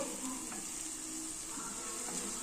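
Asafoetida sizzles in hot oil with a constant soft fry and hiss, plus a few faint stirring scrapes, heard close and without any talk.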